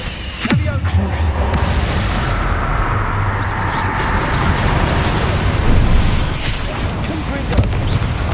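Booming spell explosions from Hogwarts Legacy, heavy loud blasts and rumbling impacts in repeated bursts, with a voice casting over them.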